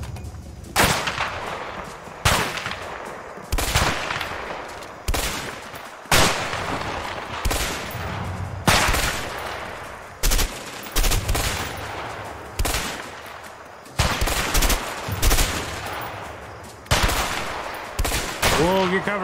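Rapid gunfire in the video game A Way Out, with repeated loud bursts and single sharp shots at close range throughout, under occasional voices.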